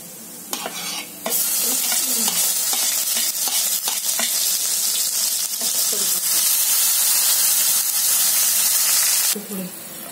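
Fenugreek seeds, cumin and asafoetida spitting and sizzling in hot oil, a loud, steady hiss that builds after a second, with stirring scrapes, then drops away near the end.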